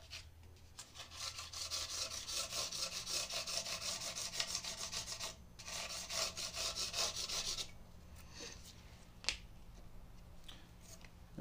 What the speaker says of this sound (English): I just work my way around with a light touch so that I'm not sanding too much away